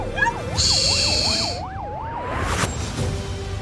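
Australian ambulance siren wailing as paramedics rush a woman in labour to hospital, a rising and falling tone alternating with a higher steady tone, loud and passing nearby over road rumble.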